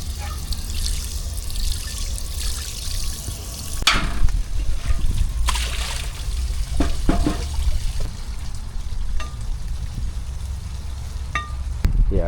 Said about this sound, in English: I'll get my pot a rinse out here now